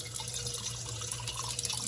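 Water drips and trickles into a plant watering globe, a soft faint splashing with a steady background hiss.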